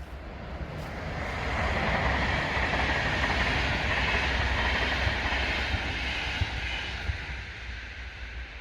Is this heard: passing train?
yes